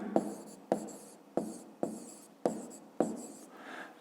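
A pen scratches across paper while someone writes out a fifth-grade math answer, six quick strokes in a steady rhythm, close and quiet.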